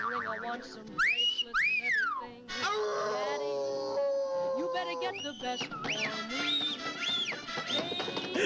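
A voice imitates a wolf, letting out a series of rising and falling howls and whistly wails, loud and close with short breaks between calls.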